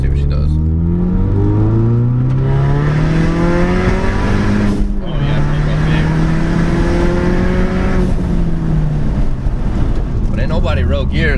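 A Ford Mustang EcoBoost with muffler delete and catless downpipe accelerates hard, its loud raspy engine note rising through gears in sweeping climbs with a brief shift dip midway, while voices talk over it.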